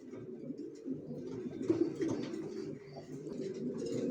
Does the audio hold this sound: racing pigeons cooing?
yes